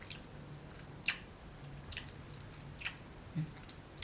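Someone takes a bite of a ripe marian plum (mayongchid) from an orchard and chews it, making a few soft, wet crunches and squishes that are faint, close and spaced apart, with no talking.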